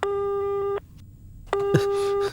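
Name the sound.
telephone line ringing, call not answered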